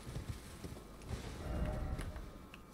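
Horse galloping in Elden Ring: Shadow of the Erdtree, quiet rhythmic hoof thuds with faint clip-clop, steady and somewhat soft throughout.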